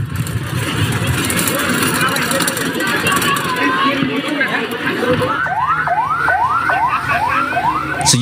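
An ambulance siren sounds during the evacuation of junior high students in Pamarican, Ciamis, West Java. Repeated rising wails start partway through, loud over a busy background of engine noise and voices.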